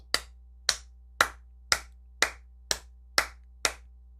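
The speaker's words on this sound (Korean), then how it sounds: "박수." Eight sharp hand claps, evenly spaced about half a second apart, close and distinct against a quiet background with a low steady hum.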